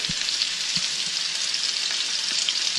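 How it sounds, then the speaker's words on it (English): Steady loud sizzling of raw steak frying in a hot pan, with scattered low pops and crackles throughout. "Whoa, it's popping, it's sizzling."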